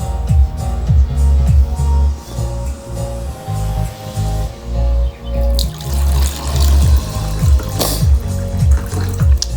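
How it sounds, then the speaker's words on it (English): Water poured back and forth between drinking glasses, with repeated splashing and trickling pours in a steady rhythm, close and fairly loud, over a low steady background hum. "The water only goes from water to water, from glass to glass."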